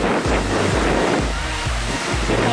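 Sea waves wash in and break on the beach at Zingst on the Baltic coast, a loud, close, continuous surf roar with rhythmic low surges and wind buffeting the microphone.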